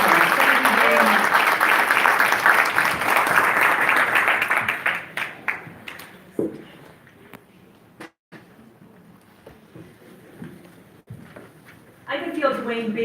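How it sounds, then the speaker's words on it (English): An audience at an awards gala breaks into loud, sustained applause that fades after about five seconds into scattered claps and quiet room noise, then a fresh burst of clapping rises at the end. "let's give her a round of applause"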